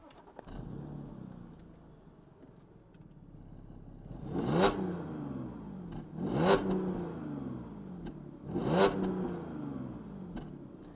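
Audi A6 engine revved three times after idling, each sharp rise in pitch peaking then falling away, close and loud against a quiet background with no talk.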